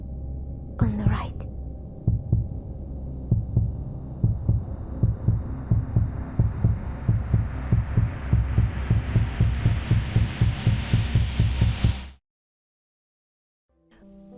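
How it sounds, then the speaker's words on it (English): A steady, thumping heartbeat sits under a rising hum and ends abruptly in silence. A whisper comes near the start. "Don't forget my heartbeat."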